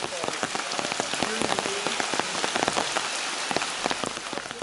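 Rain pouring at the Lamanai ruins in Belize, a dense continuous hiss with sharp scattered drops pattering on nearby surfaces, loud and close with no talk.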